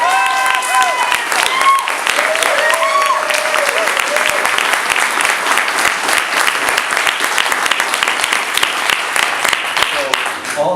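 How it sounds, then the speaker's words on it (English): An audience applauds at an oath of office ceremony swearing in a Harbor Commissioner, dense sustained clapping from a crowd filling the room, loud and continuous, with a voice briefly heard early on. "You can applaud."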